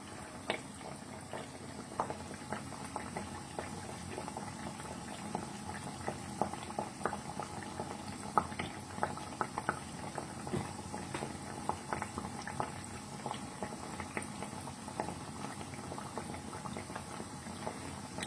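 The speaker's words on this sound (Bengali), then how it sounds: "বেশ লালচে করে এগুলো ভাজতে হবে" Sweet rice-flour and jaggery pithas deep-fry in oil with a soft, continuous bubbling crackle and scattered tiny pops. The sound is faint and steady, with no voices.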